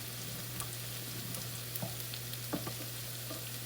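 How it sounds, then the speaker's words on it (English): Flour browning in a hot pan for Salisbury steak gravy gives a steady, soft sizzle with occasional faint stirring ticks, close and unbroken, over a low background hum. "you just let the flour brown and cook a little bit there"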